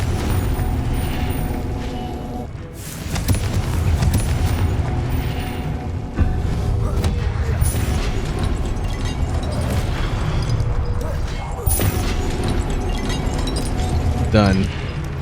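Confringo fire spell explosions boom during a boss fight in the Hogwarts Legacy video game, with loud, dense blasts over constant battle noise and a shouted voice.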